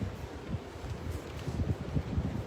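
Wind gusting across the microphone with low rumbling buffets and light rustling, uneven and close, no voices.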